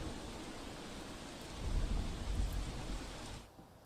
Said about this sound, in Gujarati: મોડી રાતથી જ વરસાદ જામ્યો છે